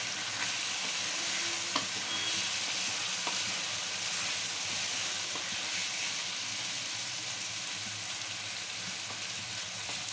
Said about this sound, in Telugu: ఆయిల్లో బాగా ఫ్రై అవుతున్నాయి.